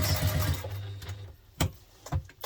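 A sewing machine runs a basting stitch around the edges of a lunch tote, first in a continuous whirring burst, then in a few short separate stitch runs with quiet gaps between them.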